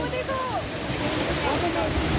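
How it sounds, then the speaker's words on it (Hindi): A waterfall on the mountain trek to Kedarnath roars as a loud, steady broadband rush close by, with wind buffeting the microphone and a person speaking over it. "हमें सबसे फर्स्ट वाला वाटरफॉल मिला जो बहुत ब्यूटीफुल था"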